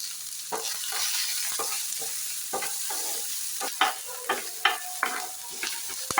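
Onion and green chilli frying in hot oil in a pan, a continuous sizzle broken by repeated scraping stirs of a spatula, close and fairly loud.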